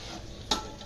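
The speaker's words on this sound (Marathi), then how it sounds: "सोयाबीन चिल्ली फ्राय चालू आहे इथं." A brief scrape of a spoon stirring soybean chilli as it fries in a pan, one quick sharp stroke over a low steady sizzle, close and short.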